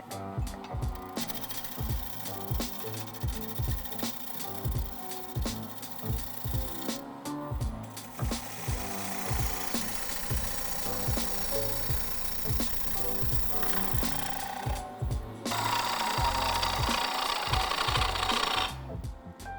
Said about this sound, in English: So one more cut with the wood beater, I'm going to establish the rim's thickness.